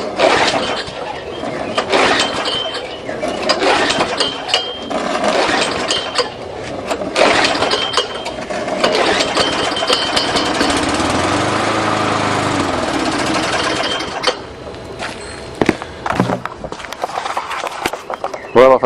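Flooded Tecumseh lawn mower engine being cranked repeatedly, with bursts of rough turning-over and sputtering between pauses and handling noises, loud and close.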